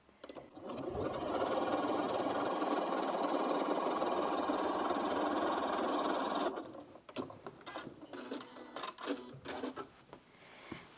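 A Janome Memory Craft 9480QCP sewing machine stitches a wavy line in one steady, loud, close whirring run of about six seconds, then stops, leaving soft handling clicks and rustles.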